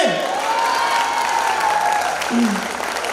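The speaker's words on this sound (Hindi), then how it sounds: "तालियां कमजोर है आपकी" Steady, dense applause from a crowd at a poetry recital gathering, continuous throughout, with a voice briefly rising above the clapping.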